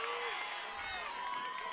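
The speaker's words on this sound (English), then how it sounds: "now we're starting to see the Buffs crowd come alive" A baseball crowd cheering for the Buffs with the bases loaded, a steady roar of voices and whoops with a commentator talking over it.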